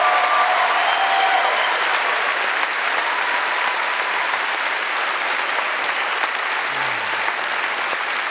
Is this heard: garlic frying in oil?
no